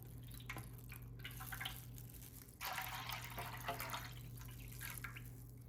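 Water poured over a pomfret fish to wash it, a quiet dripping and splashing trickle that swells for a moment partway through, over a steady low hum and with no talk.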